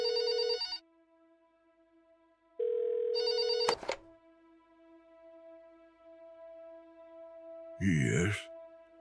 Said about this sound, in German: Geh ans Telefon jetzt, du Porter, der Fettsack!